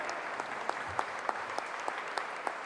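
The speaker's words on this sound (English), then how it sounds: "A big round of applause, dear friends. Indeed, he deserves a standing ovation." A lecture audience applauds in a steady, fairly faint wash of many hands, with a few sharper claps standing out at regular intervals and no talking.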